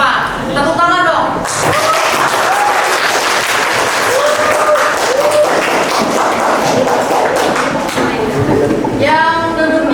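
A classroom of students applauds, giving steady, dense clapping that carries on for several seconds, with a teacher's voice heard over it at the start and end.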